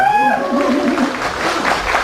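Audience applause at Cho Yong-pil's first showcase in 45 years, a steady wash of clapping from a crowd with a voice speaking over it at the start.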